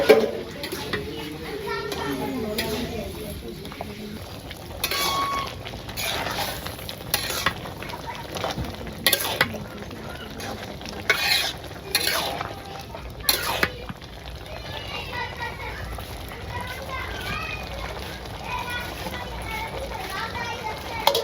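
Small fish and onions fry in a village kitchen with a steady sizzle, broken by repeated stirring and scraping, while children and other voices talk in the background.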